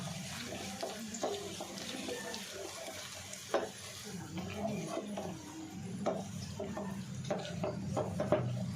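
About 2 kg of chicken is worked by hand with spices and salt, no water added, making continuous squelching, mixing sounds with faint clinks against the pot.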